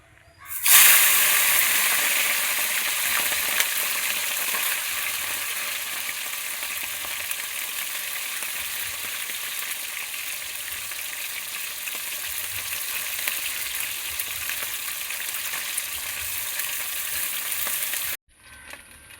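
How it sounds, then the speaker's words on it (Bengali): Fish pieces rubbed with salt and turmeric fry in hot oil, giving a loud, steady, close sizzle that holds evenly for about seventeen seconds before cutting off abruptly. "আমি এবার মাছগুলো ভেজে নেব।"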